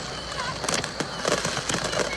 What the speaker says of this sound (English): there's actually a bit of a fireworks show at Starr Park